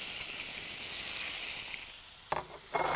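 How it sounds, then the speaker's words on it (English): Seasoning with urad dal sizzles in hot oil, a steady close frying hiss that fades slightly before a few short stirring scrapes, with no talking. "you can see the seasoning really reacting to the hot oil, and urad turning golden brown"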